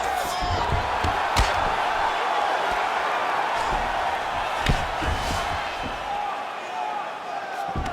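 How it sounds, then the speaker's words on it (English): In the EA Sports UFC 5 video game, a crowd at a mixed martial arts bout keeps up a steady roar as the fighters get back to their feet, with sharp impact thuds and commentary voices mixed in. "huge pop from the crowd as the fighters get back up to their feet"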